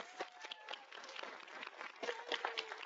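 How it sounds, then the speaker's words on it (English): A symposium audience at a marine debris event claps for its presenters, a modest, somewhat thin round of applause with scattered individual claps, fairly quiet and steady for a few seconds. "can we get a round of applause for all of our presenters?"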